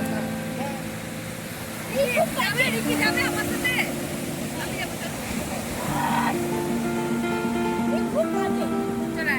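Ocean waves wash onto Vizag beach at night, a steady surf hiss swelling and receding beneath several people talking and calling out close by.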